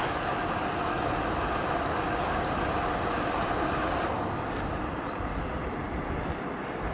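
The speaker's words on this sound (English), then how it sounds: "I feel like we're going into a bit of a headwind here." Headwind roaring across the microphone while riding a Mokwheel Tarmac ST ebike at speed, a steady loud broadband rush that is constant throughout and carries no speech.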